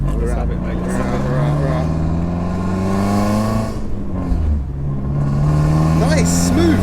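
Raspy engine revving from a 90s performance car with a modified exhaust, rising and falling in pitch through two long pulls, loud and close, with voices talking over it.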